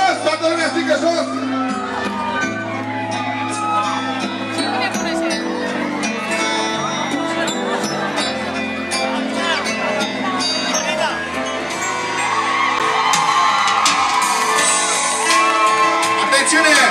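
A crowd of about 650 Romanians at a concert in Dublin, Ireland, shouting and chanting together in a loud, continuous roar with music underneath.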